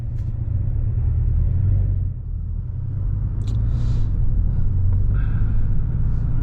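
A Porsche 718 Boxster base model drones as it drives onto the freeway, a steady deep engine rumble with road noise that holds level throughout, with no talking.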